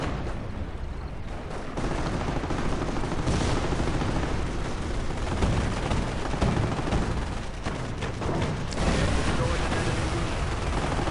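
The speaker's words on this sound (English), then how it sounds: "That was the American AT gun hitting their own 50 cal half track there" A video-game battle with an American anti-tank gun striking a friendly .50 cal half-track: dense, loud continuous gunfire and explosive blasts roll on for the whole stretch, with no clear gaps.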